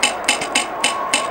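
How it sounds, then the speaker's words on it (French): A clock pendulum ticking in a radio studio, regular sharp clicks roughly every quarter to third of a second, steady and fairly close over a faint background hum. "Ce que vous entendez là, c'est le pendule de Radio Campus."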